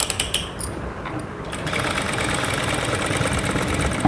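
A sewing machine stitching hooks on a long stitch setting starts after a few light clicks and then runs in a continuous, close, rattling mechanical hum.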